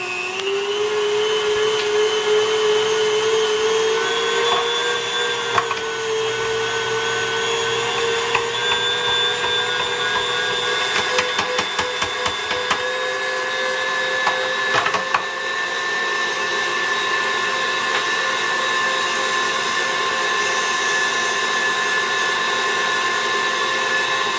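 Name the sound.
meat grinder grinding duck meat for pâté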